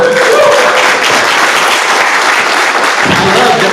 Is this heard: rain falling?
no